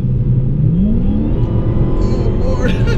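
A Dodge Hellcat's engine pulls hard under heavy throttle, a loud steady roar that climbs in pitch as the car speeds up from highway speed, heard from inside the cabin.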